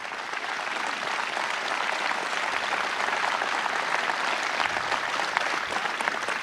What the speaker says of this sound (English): Let's give all of our law enforcement officers a round of applause